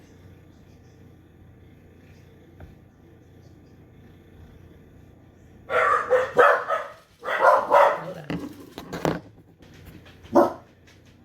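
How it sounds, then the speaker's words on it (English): A dog barks in loud bursts from indoors, with several quick barks, a pause, another cluster and a final single bark after a quiet stretch, while a person speaks briefly. "Nothing like your dog's barking every 5 minutes."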